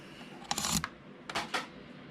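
PCIe cable wire pins click into a connector socket: a few quiet, sharp plastic clicks in two brief clusters, heard close up with no talk.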